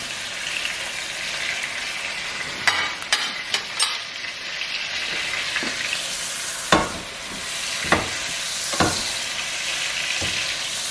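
Salmon fillets sear in a hot pan as lemon juice is squeezed over them and they are basted, giving a steady close sizzle broken by sharp pops and crackles.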